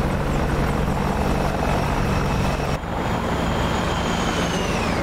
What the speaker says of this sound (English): Apache come inland at 100 knots.